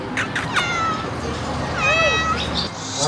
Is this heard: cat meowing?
yes